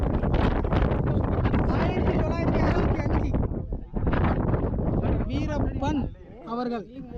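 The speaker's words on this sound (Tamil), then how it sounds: "அந்த காற்றுல நாங்கள் சொல்கிறதெல்லாம் கேட்கல." Strong gusting wind buffets the microphone on a forested mountain in Erode, roaring loudly in long surges that ease briefly near the middle and drop away toward the end, with people talking over it.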